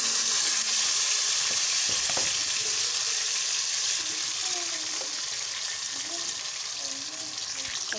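Dried nuts sizzling in a pan while cooking for sweet jaggery rice, a steady loud frying hiss running throughout with faint stirring scrapes, close up, with no talk.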